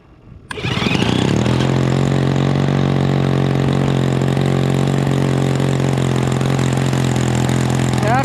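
A gas engine on a Great Planes Extra 300S RC plane, left sitting in a garage for five months over winter, catches after a brief quiet moment, then settles into a loud, steady, close idle.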